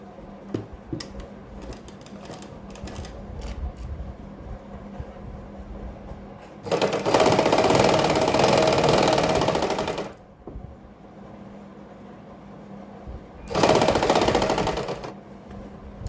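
Sewing machine running a basting stitch on kurti neck fabric in two bursts, a longer run of about three seconds and a shorter one later, with quiet handling sounds in between.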